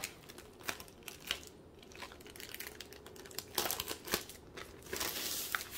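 Crinkling plastic and paper rustle as a Diamond Art Club diamond painting package is opened and unrolled, with irregular close crackles and a few sharper tearing bursts, no voices.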